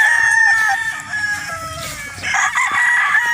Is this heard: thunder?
no